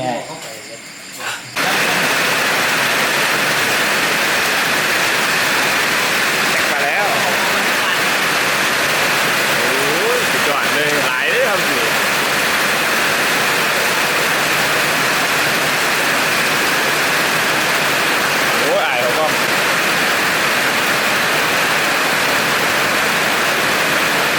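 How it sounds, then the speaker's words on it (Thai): Steady rain falls outdoors in a Thai village, a constant loud hiss of water that runs nearly the whole time after a brief quieter start, with a few faint sounds under it. "ฝนตกมาแล้วที่นี่"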